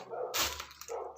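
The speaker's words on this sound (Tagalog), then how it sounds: "masyadong maraming aso sa labas. So, dinig na dinig ang mga tahol nila." Dogs bark outside in a short burst, a loud near yelp in the middle with fainter barking around it, and no talk over it.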